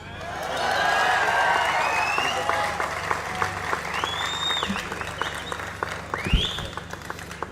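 Applause and cheering from a political rally crowd listening to a speech by Raj Thackeray, a dense, sustained roar of clapping that swells and then slowly fades, with voices in the crowd.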